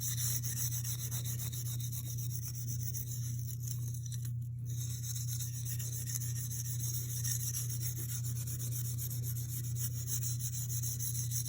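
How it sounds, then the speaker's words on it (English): Steel wool rasps continuously against surface rust on a blued gun's metal, a steady close scrubbing with a low mechanical hum running underneath throughout. "you can hear how abrasive that is on that rust"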